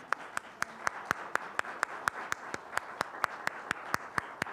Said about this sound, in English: I want you all to give yourselves a big round of applause